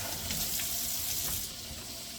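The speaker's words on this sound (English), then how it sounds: "We are first going to rinse off our roast with some cold water" Cold tap water runs steadily over a pot roast in a sink, a continuous hissing splash at even level with no talk.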